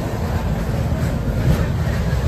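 Crowded train rolling along, a dense, continuous low rumble and rattle of the carriages heard up close from inside, steady for a couple of seconds with no talk over it.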